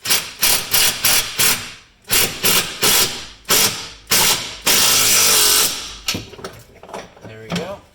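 Ratchet wrench clicking rapidly as it drives a long factory bolt through the frame on a Polaris RZR XP Turbo S harness mount, loud and close in repeated bursts of fast clicks with brief pauses between strokes.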